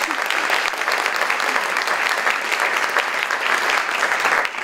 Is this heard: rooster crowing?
no